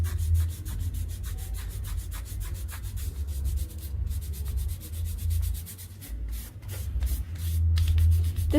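Kinesiology tape rubbed onto the elbow and forearm for tennis elbow, a steady close scratchy rubbing under a low rumble that runs without a break, with no talking.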